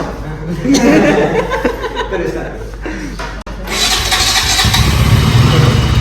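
A new superbike motorcycle engine cranks and catches partway through, settling into a steady loud idle close by, with people talking and laughing over it.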